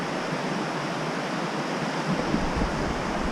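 Creek water flows steadily over rocks around a fallen tree on a mountain hike near Mt. Lola, a continuous close broadband rush with no voices.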